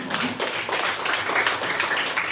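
Applause fills a classroom, a steady wash of hand claps from a group of students running throughout at moderate loudness with no talk over it.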